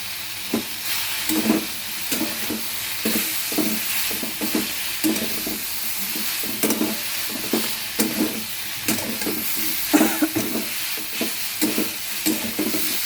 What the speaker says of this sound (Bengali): দিয়ে দিলাম রসুনের পেস্টটা, দিয়ে দিলাম আদাটা